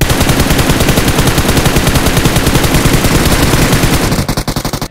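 Rapid automatic M4 rifle fire in the BGMI mobile battle-royale game comes as a loud, continuous stream of evenly spaced shots for about four seconds, then a few separate final bursts before it stops.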